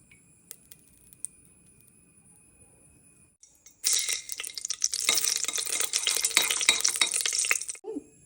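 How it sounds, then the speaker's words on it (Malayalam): Oil and ghee poured into a pressure cooker on a stove, a quiet stretch of light handling followed by a loud, dense hiss and crackle of hot fat that holds for about four seconds before cutting off, close up. "ആദ്യം നമ്മൾ കുക്കർ അടുപ്പത്ത് വെക്കുകയാണ് ഇനി നമുക്ക് അതിലേക്ക് ആവശ്യമുള്ള എണ്ണ നെയ്യൊക്കെ ഒഴിക്കാം"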